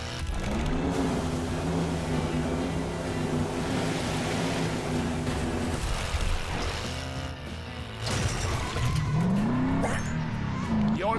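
A LEGO toy car races in the LEGO 2K Drive video game, its engine revving and rising in pitch as it accelerates, with whooshing boost surges and some background speech.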